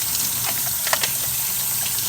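A DeLonghi Magnifica espresso machine brew unit is rinsed under warm running water in a sink, giving a brief, steady splashing hiss with a few light knocks.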